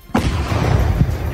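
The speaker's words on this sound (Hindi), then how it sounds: "जैसे ही बमों को नष्ट किया गया, वहाँ पूरा इलाका तेज धमाके से थर्रा उठा।" A sudden loud explosion booms as 15 recovered bombs found in a canal are destroyed, followed by a deep rumbling roar that lingers and swells again briefly.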